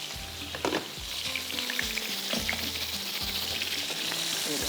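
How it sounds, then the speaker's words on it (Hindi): Creamy stick boti meat sizzles steadily as it fries in a pan, with repeated scraping strokes of stirring over the constant loud crackle and no voices. "इसको थोड़ा सा फ्राई करेंगे"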